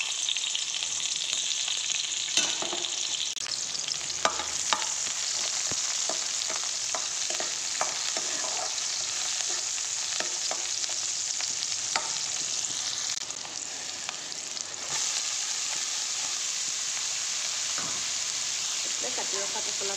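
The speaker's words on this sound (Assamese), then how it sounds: "তেল গৰম হৈছে। ইয়াতে এতিয়া পচলাকণ বনাই লওঁ, অকণমান জ্বলা ভাজি বনাম। এতিয়া পিঁয়াজ দি দিছোঁ।" Onions fry in hot oil in a kadai, giving a continuous bright sizzle that holds steady for the whole stretch, broken by frequent clicks and scrapes of stirring, with a brief dip in loudness partway through.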